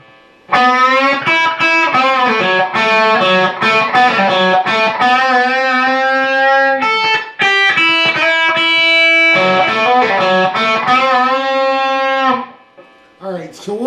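A loud, distorted electric guitar plays the outro solo of a song: long sustained bent notes and quick picked runs in two main phrases with a short gap, ending in a near-silent tail.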